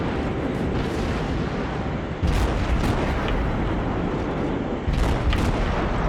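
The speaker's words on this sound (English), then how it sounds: "I honestly cannot tell where my shots are going." Warship guns firing in the naval game World of Warships, a steady rumbling barrage with heavier booming salvos landing around two and five seconds, loud and close.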